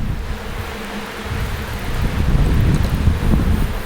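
Honey bees swarm around an opened hive during a honey harvest, a dense buzzing that swells louder over heavy low wind rumble on the microphone, with no voices.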